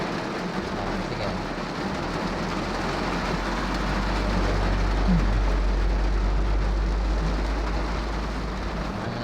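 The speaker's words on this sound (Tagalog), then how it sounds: "Ang lakas ng ulan." Heavy rain drums steadily and loudly on a truck, a dense continuous wash with a low engine rumble beneath and no talking.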